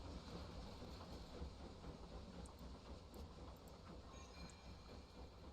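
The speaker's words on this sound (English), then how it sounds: "Hello, train." A steam-era train rolls past in a video game world, a dense, steady low rumble of wheels and carriages holding at an even level throughout, with no talk over it.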